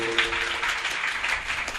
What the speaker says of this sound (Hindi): तालियों का स्वागत कर दो।